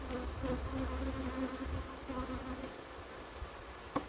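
Steady droning hum of many honey bees buzzing close by, continuous throughout with a faint click near the end.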